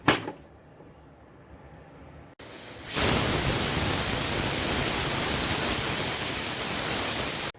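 A pressure cooker on a home stove holding cowpea (chavli) and potato usal curry stays quiet at first, then bursts into a loud, steady, rushing steam whistle that hisses on without a break to the end.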